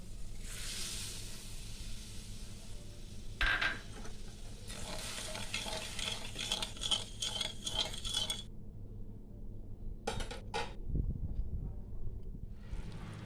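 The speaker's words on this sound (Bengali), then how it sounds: "চিনিটা আমি পাক করে নেব।" Sugar and a little water bubbling and sizzling in a kadai as it cooks down into syrup for gaja, a steady close frying hiss with occasional stirring scrapes and a clink of utensils, no talking.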